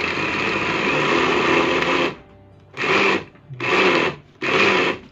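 A kitchen blender whirs loudly, mixing avocado and milk for ice candy: one long continuous run, then three short bursts separated by brief pauses, close and with no talk.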